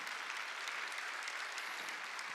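During a Wednesday worship service at Jesus Centered Church, a congregation applauds in a thick, even wash of clapping from many people, loud and unbroken throughout with no voices on top.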